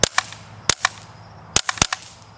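A rifle fitted with a Liberty silencer module on a 1 3/8 thread adapter fires four sharp suppressed reports in quick irregular succession, each cracking crisply and decaying fast, with no voices.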